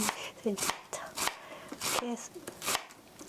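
A knife chops meatball ingredients finely on a cutting board, sharp rhythmic strikes repeating about every half second, close and clear, with someone talking over the cutting.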